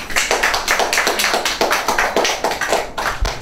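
Audience at a graduation awards ceremony clapping steadily, a dense, loud burst of many hands with a continuous rhythmic texture.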